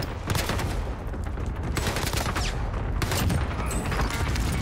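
Gunfire in the video game Warzone crackles in several rapid, dense bursts, loud volleys of shots fired back to back with brief gaps between them.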